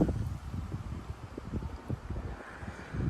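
Strong 30 mph wind gusts at night in Frisco, Texas, buffeting the microphone with low rumbling bursts and a steady roar through the trees, cold and close.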